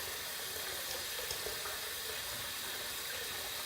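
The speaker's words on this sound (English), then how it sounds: "we're going to heat up both sides with hot water" Hot water from a tap runs steadily over a short-handled safety razor, a soft continuous hiss and trickle heard at low volume with no voices.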